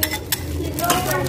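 Garlic, chili and lime fish sauce being stirred into sweet-and-sour pig ear in a pan or bowl, with close, continuous scraping and light clinking of a utensil.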